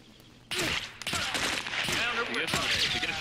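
Automatic gunfire in the survival game SCUM during a server raid, breaking in suddenly and staying loud as a string of close, sharp bursts.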